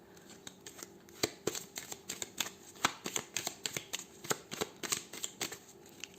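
Deck of playing cards being shuffled and cut, a quick run of crisp riffling snaps and flicks repeating in an irregular rhythm, close and fairly soft with no talk.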